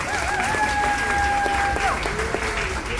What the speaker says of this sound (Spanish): él quiere que le aplaudan más